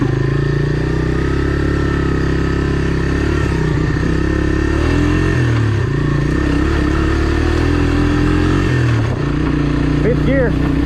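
A Honda Big Red 250es three-wheeler engine runs hard and accelerates up a trail, a loud, steady, close drone with shifting pitch as gears change, rattles and clatter over rough ground, and voices talking beneath it.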